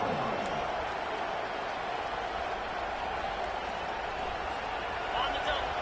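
A college football stadium crowd roars steadily for the defense in the red zone, a dense continuous wash of cheering and noise that holds throughout.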